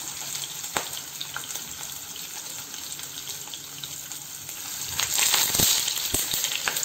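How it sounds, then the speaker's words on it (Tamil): Pomfret shallow-fries in oil on a tawa, making a continuous near hiss and crackle that grows louder and busier toward the end, with a few sharp pops and no talk. "இப்போது நம்ம எடுத்து வச்சிருக்கிற கறி மீனை ஃப்ரை பண்ண போகிறோம்"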